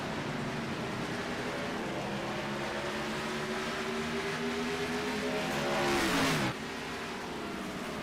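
Race cars from a racing video game at Watkins Glen battle in a tight pack, their engines a loud, continuous droning whine with rising pitch that cuts off abruptly near the end.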